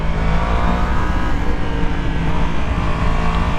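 Yamaha GYTR R1 race motorcycle engine with quickshifter and auto-blipper, running at high revs as a steady loud dense roar with no pauses and no talking.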